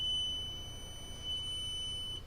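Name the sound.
multimeter continuity mode beep on MacBook board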